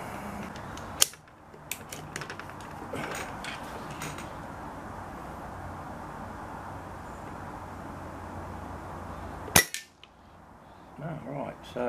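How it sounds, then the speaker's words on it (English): Air rifle or rimfire rifle being reloaded at a shooting range, a sharp click near one second and a metallic clack and clatter near the end around steady low background noise, with a faint mechanical tick midway. "Doing a reload."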